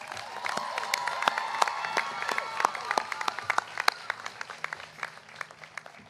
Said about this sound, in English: let's give your families and friends a big round of applause